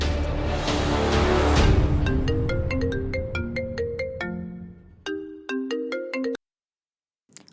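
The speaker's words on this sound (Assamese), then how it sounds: "ৰুমলৈ আহোঁতে ফোনটো বাজি থকা দেখি ৰিচিভ কৰিলোঁ" A mobile phone rings with a loud, clear electronic ringtone melody of stepped notes that repeats, then stops abruptly before a short silence.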